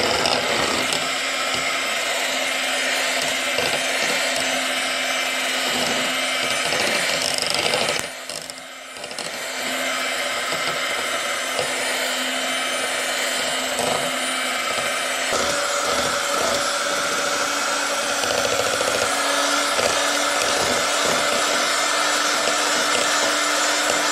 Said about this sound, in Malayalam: ഇനി ഇതിലേക്ക് ഷുഗർ ചേർത്ത് ബീറ്റ് ചെയ്യാം.